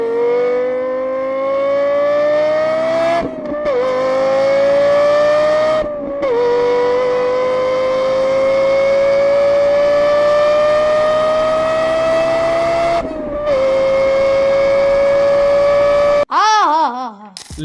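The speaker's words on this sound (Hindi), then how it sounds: "लेक्सस LFA, जिसकी साउंड सुनते ही आप सब कुछ भूल जाओगे।" A Lexus LFA sports car engine revs in long, rising high-pitched wails broken by brief gear-shift dips, loud and close, ending in a sharp swooping pass.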